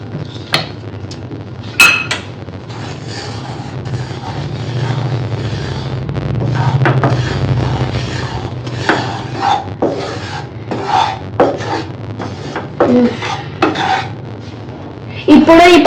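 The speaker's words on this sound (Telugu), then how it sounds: "మనము ఈ గ్యాస్ స్టవ్ అయితే మీడియంలో పెట్టేసి ఇలా వేగించుకోవాలి 5 మినిట్స్ వరకు" Ragi powder roasted in a pan over a medium gas flame, stirred with repeated scraping and rasping strokes against the metal, with occasional knocks and clinks, close and fairly loud throughout.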